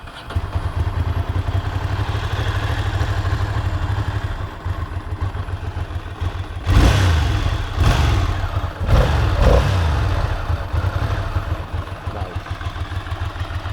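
A 2002 Ducati Monster 750ie engine running after sitting unused for 15 years, idling loud and close with a steady throbbing rumble, then two or three sharp revs around the middle before settling back to idle.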